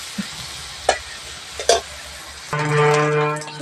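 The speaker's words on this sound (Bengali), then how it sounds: "একটু হালকা করে ভেজে নেবো" Small dried fish frying with eggplant in a pan: three sharp spatula scrapes and taps, then a louder burst of sizzling over a steady mechanical hum. No voices.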